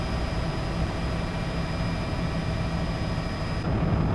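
Helicopter flying low over the Kenyan bush to herd a rhino during a relocation, a steady loud rotor and engine roar holding constant throughout with no voices.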